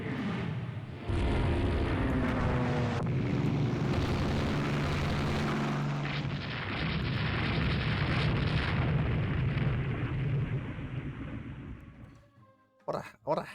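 Explosions and rumbling gunfire fill a naval battle under air attack in the Rule The Waves 3 strategy game. Heavy booms roll almost continuously for about ten seconds before dying away, with someone speaking over the din.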